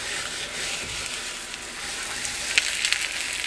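Corn tortillas frying in hot oil to become taco shells, a steady, close hiss of sizzling bubbles with a few brighter crackles near the end, no talking.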